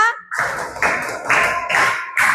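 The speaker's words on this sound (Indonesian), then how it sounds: "Tepuk 1, tepuk 2, tepuk 3, tepuk 4, tepuk 5" Group of people clapping in rhythm for an ice-breaking clap game in a classroom session: short bursts of hand claps in an even counted pattern, close and moderately loud, with a brief voice at the start.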